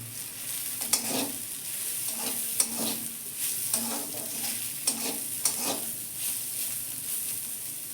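Drumstick leaves and lightly fried onion sizzle steadily in a pan, with a continuous hiss broken by repeated scraping stir strokes at close range, no voices.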